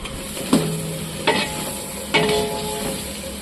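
Chopped tomatoes sizzle in a little coconut oil as a spoon stirs them around the pan, with three sharp scraping strokes standing out over a steady frying hiss.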